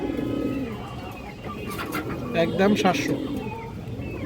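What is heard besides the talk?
female pigeons cooing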